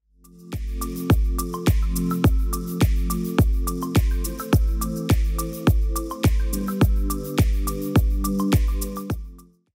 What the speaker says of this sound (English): I personally like to shred my meat with this little meat chopper